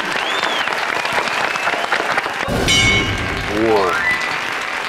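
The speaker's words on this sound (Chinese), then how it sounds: "谢谢，掌声鼓励" A studio audience on a Taiwanese variety show breaks into a dense wash of applause. A voice briefly exclaims, and bright sliding electronic tones ring out over the clapping toward the end.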